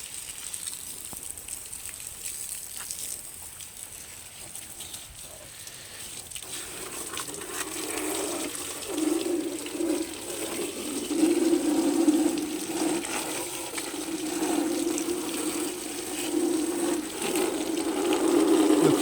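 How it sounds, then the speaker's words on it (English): Water is showered steadily underneath a Bajaj motorcycle, making a continuous hissing, pattering spray that swells somewhat louder partway through and runs for the whole stretch without talk. "we'll just shower some water underneath, and we'll see if there's any water that comes"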